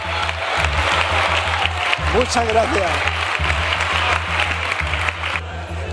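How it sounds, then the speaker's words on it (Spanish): Sustained applause fills a Senate chamber as all parliamentary groups give a minister an ovation, a dense steady clapping bed with someone speaking briefly over it. "que conste en acta esta ovación de todos los grupos parlamentarios a este ministro"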